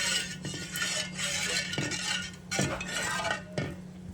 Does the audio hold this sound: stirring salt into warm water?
yes